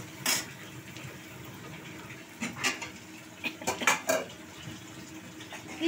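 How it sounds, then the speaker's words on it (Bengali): Khichuri spice mix sautéing in a pan with onions in hot oil, heard as a spoon scraping and clinking against the metal pan in irregular close bursts over a low background hiss. "খিচুড়ির মশলা কষা হচ্ছে।"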